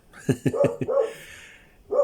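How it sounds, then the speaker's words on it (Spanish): A dog barks close by in quick sharp yaps, four rapid barks followed by a longer whining bark and one more after a short pause. "cuando empieza a ladrar no para en un buen rato"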